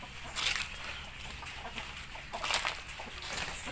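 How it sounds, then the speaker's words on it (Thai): Several young roosters cluck and chatter in bursts close by, with scratchy rustling between calls and no talking. "วันนี้ก็จับ มาดูไก่หนุ่มด้วยกันเนาะ"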